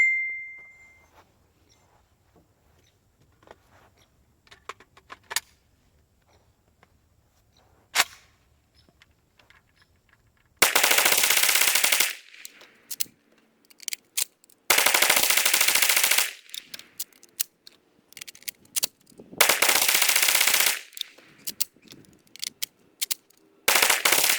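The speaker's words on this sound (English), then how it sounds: "We'll shoot 100 rounds through the IO." Inter Ordnance AK-47 rifle firing full strings of rounds in three long, loud bursts separated by short pauses, with a few scattered single shots and handling noises before and after.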